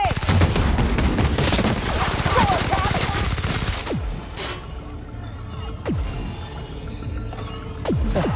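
Video game gunfire from The Outer Worlds: Spacer's Choice Edition, dense sustained automatic fire and fusillade bursts filling the first half, then thinner scattered shots with brief pauses, loud and close.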